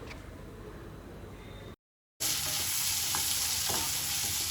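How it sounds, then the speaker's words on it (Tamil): Steady sizzling of onions sautéing in hot oil in a pan, interrupted by a brief silent gap, then louder sizzling with a few faint stirring clinks. "நல்லா வெங்காயத்தை வதக்கி விட்டுக்கோங்க."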